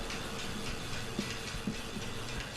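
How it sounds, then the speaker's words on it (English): A small truck train vehicle rolls along in the Astroneer video game, giving a steady, dense rumbling drive noise with a faint hiss and light rattling clicks, continuous throughout and without speech. "let's have a little drive of our little truck train"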